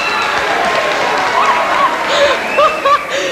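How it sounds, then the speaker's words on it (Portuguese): A 1990 SBT TV studio audience applauding during a mediumship segment, a dense continuous crowd clapping with scattered voices and a few higher whoops rising above it. "Aí veio o povo e aplaude."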